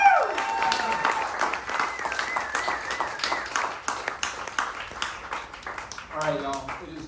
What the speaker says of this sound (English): One more big hearty round of applause for Skye Jackson.